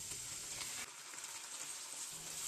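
Steady close sizzling of ground chicken frying in a pan, with soft scraping as it is stirred and pressed, no voices.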